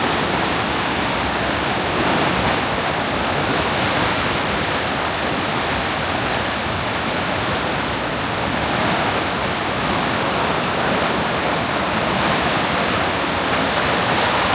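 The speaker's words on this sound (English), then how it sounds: "getting this close to this water with it moving this fast kind of disorients you a little bit" Fast-moving water rushes at Martins Fork Dam in Harlan, Kentucky, producing a steady, loud, broadband roar that continues unbroken for the whole stretch, heard up close with no voices.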